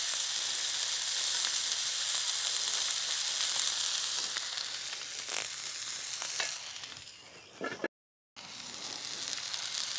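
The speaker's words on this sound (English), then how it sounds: "I am going to throw this directly on the skillet as is, and then I'm going to pepper it while it's still on the skillet." Meat sears on a hot skillet at a campsite, a loud steady sizzle close by with crackles and a few scraping stirs, then a short break before the sizzling resumes.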